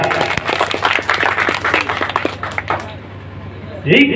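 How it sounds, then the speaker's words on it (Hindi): A crowd at an All India Mushaira poetry gathering breaks into dense applause over a low hum. The clapping thins out and fades after a few seconds, and a voice comes in at the end. "एक मर्तबा जोरदार तालियों के साथ आप सब मुझे इजाजत दें।"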